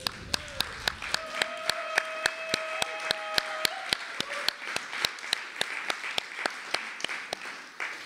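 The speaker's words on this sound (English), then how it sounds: "Let's give him another round of applause." Applause from an audience at a labor-themed event in Hawaii after a speech, with a steady wash of clapping and regular sharp claps throughout, and a sustained tone audible partway through.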